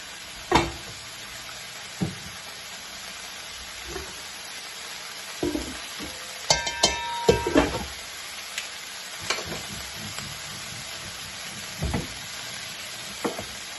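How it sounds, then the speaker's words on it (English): Vegetables with sugar snap peas fry on high heat in a pan for drunken noodles, a constant hiss of sizzling broken by scattered clanks and scraping stirs, with a louder rattling burst midway and no talking. "So we're just gonna add all that in here. Let this cook."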